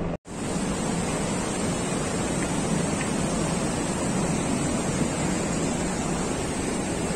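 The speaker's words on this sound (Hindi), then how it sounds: "अभी ये आप देख रहे हो नदी, मंदाकिनी नदी, और बहुत ही तेज इसका बहाव है" The fast-flowing Mandakini river on the Kedarnath trek in the Himalayas gives a loud, continuous broadband roar of rushing water. It starts after a split-second dropout and holds steady and close throughout, with no voices.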